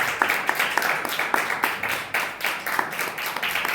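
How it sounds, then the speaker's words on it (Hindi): A church congregation claps in unison to a steady rhythm, sharp regular beats roughly every third of a second, close and even, with no speaking over the clapping. "ताली बजा के हम प्रभु के नाम से।"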